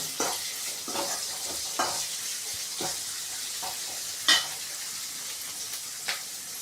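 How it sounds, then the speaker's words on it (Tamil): Onions sautéing in a pan for a Tamil fish curry, a continuous sizzle broken by periodic stirring scrapes and one sharper clank, with no voices. "நல்லா வெங்காயம் வதங்கி பொன்னிறமான கலருக்கு மாறணும், அது வரைக்கும் நல்லா வதக்கிக்கோங்க"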